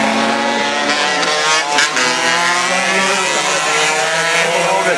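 A race car circling a track at high speed, its engine a loud, steady whine with strong harmonics that holds throughout without a break.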